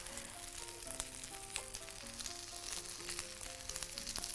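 Vegetables and julienned ginger fry in a pan with a steady, close sizzle, broken by scattered crackles and pops and a few faint clinks against the pan throughout.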